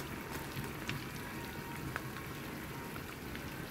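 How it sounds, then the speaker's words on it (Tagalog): Steady, faint bubbling crackle of minced pork and carrots deep frying in oil until brown, a continuous hiss with small pops, no talk. "Dinidip fry po natin para maging brown po siya."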